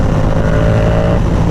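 A Yamaha R7 motorcycle idles or revs close by, producing a loud, steady, deep exhaust rumble with no speech over it.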